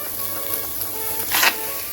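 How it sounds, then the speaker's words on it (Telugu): Chicken pieces sizzle and fry in a hot pan, a steady close crackle with a brief louder burst of hiss near the end, no voices. "చికెన్ వేస్తున్నామండి"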